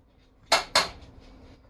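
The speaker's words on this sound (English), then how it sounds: "Go ahead and stir that all nice and around." Two quick metallic scrapes of a utensil stirring onions and red pepper in a pan, close and fairly loud, with a quiet kitchen between them.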